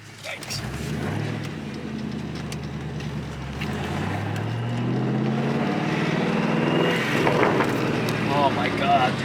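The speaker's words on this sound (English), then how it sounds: "let's go ahead and get a drive out of this thing and just listen to the engine" A Ford Mustang with a failing clutch drives along, its engine droning and rising in pitch as it accelerates, with wind and road noise and some talking.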